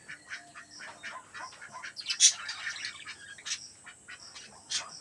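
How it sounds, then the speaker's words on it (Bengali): Restless birds squabble and call in the morning, trading rapid chirps and harsh honking squawks in a busy, overlapping chorus, one louder cry standing out near the middle. "অন্য পাখিগুলো ডাকছে কি সুন্দর"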